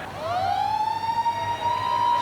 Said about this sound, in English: Siren in the background,